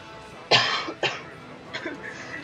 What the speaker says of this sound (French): Je pense que vous m'entendez aussi tousser.